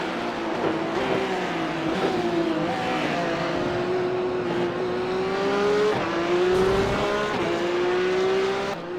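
A Porsche 911 races around the Hungaroring in the iRacing sim, its engine note climbing and falling through gear changes, with tire squeal and nearby rival cars, loud and continuous, with no talk.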